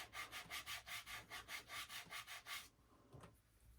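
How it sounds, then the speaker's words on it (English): Silk screen stencil rubbed firmly onto polymer clay, giving about a dozen quick, even back-and-forth scrubbing strokes, close and fairly quiet, before the rubbing stops and a few soft handling sounds follow. "when you're using a silk screen, you want to just kind of rub it on to make sure there's no air pockets underneath"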